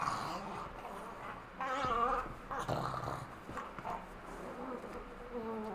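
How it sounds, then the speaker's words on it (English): A small dog growls and snuffles while playing indoors, close to the mic, in a steady stretch of rough, buzzing growls rising and falling over a few seconds, with faint room noise underneath. "I got my little dog here. He's like playing around."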